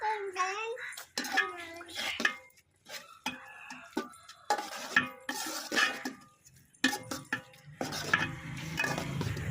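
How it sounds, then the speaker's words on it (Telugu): A sweet milk mixture for milk candy is stirred in a cooking pan, with a spoon scraping and clinking against the metal in short, irregular strokes while someone talks over it. "ఇప్పుడు అంతా కలిపేసుకున్నాం కాబట్టి ఇంకొంచెం బాగా ఉడకనిద్దామండి"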